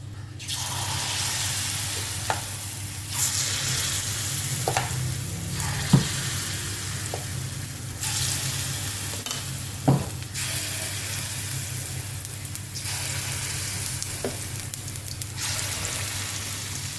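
Corn and jaggery paniyaram batter sizzles steadily in ghee in a hot pan, a continuous close frying hiss with a few sharp pops and crackles scattered through it, no voices.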